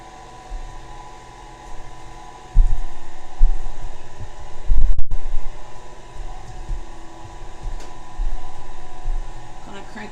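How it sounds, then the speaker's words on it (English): An electric mixer beats pecan pie batter with added flour, giving a loud, close, steady motor whir that jumps in intensity and then holds at a higher, busier drone. "Not gonna mix it for very long."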